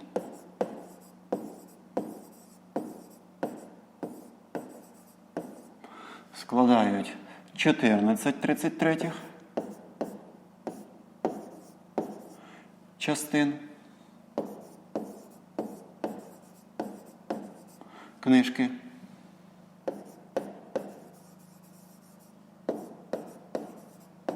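A pen scratching on paper while someone writes out a 5th-grade maths exercise, with short rhythmic strokes repeating throughout and a few denser scribbling bursts, close and quiet, under occasional speech.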